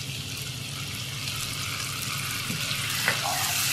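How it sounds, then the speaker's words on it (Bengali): Prawns frying in a pan over medium to low heat, a steady close sizzle with light crackles and a brief clink near the end, heard alone without talk. "চিংড়ি মাছগুলোতে খুব সুন্দর একটা কালার আসার পর্যন্ত আমাকে ভেজে নিতে হবে মিডিয়াম টু লো আছে।"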